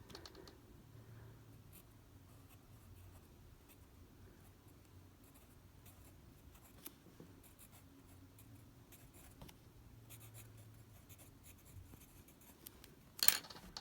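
Quiet scratchy strokes of a Baron Fig Archer pencil writing on paper, close and soft, ending with a sharp tap as it is set down.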